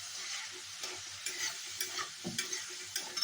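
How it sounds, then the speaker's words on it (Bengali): Tomatoes fry in oil in a pan with a soft, continuous sizzle, while a utensil scrapes and knocks against the pan now and then in light, irregular taps. "এখানে টমেটো ভাজতে দিয়ে দিয়েছি আমি তেলে অলরেডি"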